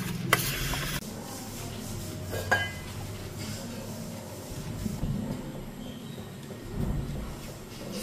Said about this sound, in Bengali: দিয়ে দেবো এই কাঁচা লঙ্কাগুলো, তেলটাও ভালো করে মিশিয়ে নেব যতটা আলতো হাতে